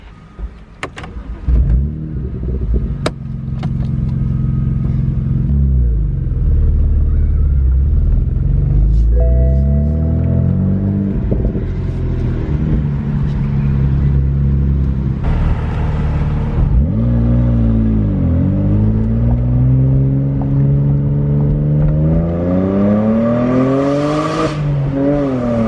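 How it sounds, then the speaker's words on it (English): A 2009 BMW 135i Convertible drives around the block, its engine revving up and easing off through several gear changes with rising and falling whine, close and steady throughout. "I'm gonna take the car around the block. That way you guys can see how the car drives and how it sounds."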